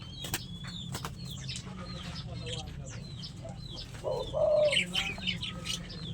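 Pet pigeons coo softly at feeding time and are joined by scattered chirps and tweets from other birds. A low, fuller coo stands out near the end over a steady background murmur.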